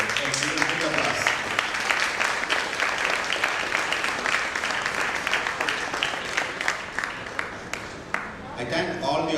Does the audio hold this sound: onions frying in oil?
no